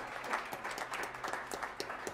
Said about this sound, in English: Come on, that's a round of applause.